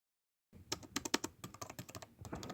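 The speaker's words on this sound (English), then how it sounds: "Best sounding keyboard I've heard." Rapid typing on an HP Pavilion ZE4325 laptop keyboard, a burst of crisp clicky keystrokes in an irregular rhythm, close and fairly quiet, starting after a moment of silence.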